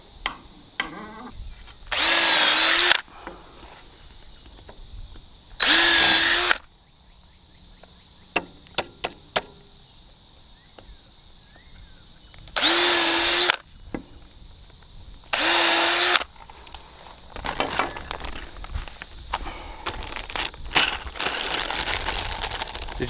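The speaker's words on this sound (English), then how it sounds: "Not that y'all need to see how a drill works." A power drill drives screws while a PolyWire goat fence goes up, sounding four short, loud whirring bursts separated by quieter handling clatter and rustling.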